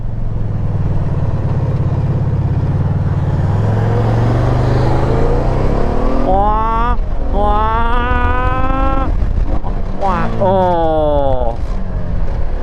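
A 1980s shaft-drive motorcycle accelerates hard under the rider, its engine note climbing in pitch through rising sweeps, loud and close with steady wind rush throughout.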